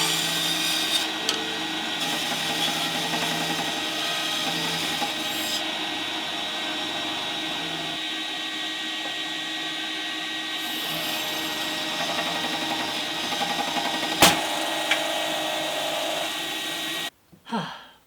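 A bandsaw cutting maple runs with a continuous close, loud whine and rough chattering, a sharp snap near the end as the blade breaks, then the motor cuts off abruptly.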